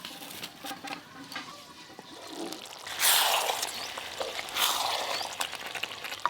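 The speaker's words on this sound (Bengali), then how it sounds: "একটু চাপা দিয়ে দিয়ে ভালো করে কষে নেব।" Chicken sizzles in a pan while being sautéed down for a chicken curry, with a soft, steady frying hiss. Two louder bursts of sizzling and scraping rise as the pieces are stirred and pressed.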